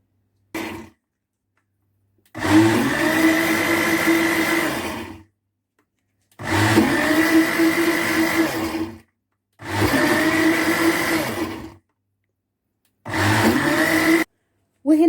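Chocolate sauce mixed with oil whirs in an electric blender in four loud, close bursts of a few seconds each, separated by short silences.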